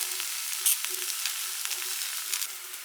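Beef sizzling and frying in a hot pan for a stir-fry, a steady dense crackle with small pops and stirring scrapes throughout, no voices.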